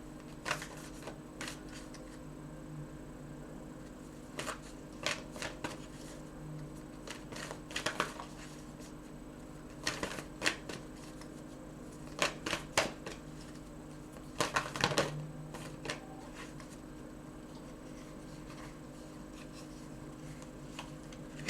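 A Moonology oracle card deck is shuffled by hand in a quiet room, soft irregular riffling and card flicks coming in bursts over about twenty seconds, fairly faint and close.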